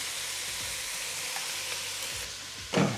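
Carrot, celery and onion sizzle in a pan with seared meat, a steady close crackling fry with a brief louder stir or clatter near the end.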